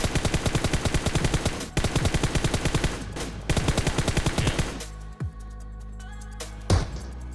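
Sustained automatic gunfire in PUBG Mobile, loud evenly spaced shots in rapid bursts with brief gaps, ending in a few isolated shots and quieter game sounds.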